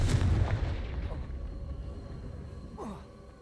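Confringo blasting spell explosion in the video game Hogwarts Legacy, a loud booming blast at the start that decays into a long rumbling tail, followed by a faint whooshing effect near the end.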